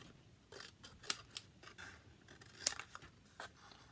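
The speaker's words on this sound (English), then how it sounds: "And then what I do is I cut the tabs in half." Scissors snipping through paper tabs while assembling a paper sunflower centrepiece, a quiet series of short, crisp cuts spaced irregularly and heard close up with no voices.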